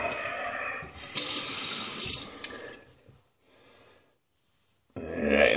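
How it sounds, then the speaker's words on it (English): A shaving brush is rinsed under a running tap, with a steady rush of water splashing into a sink, then a brief quieter trickle and silence before the flow resumes loudly. "let me just rinse this brush off"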